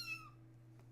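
A pet kitten gives a single short, high meow, faint and brief, over a steady low electrical hum.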